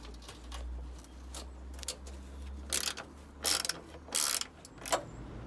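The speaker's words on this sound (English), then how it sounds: "Let's just undo. There's 3 bolts here actually. So get these out." Ratchet wrench clicking while loosening 10 mm bolts on a Ford ST170 under restoration, several short bursts of metallic ratcheting and clatter over a low steady hum, close by.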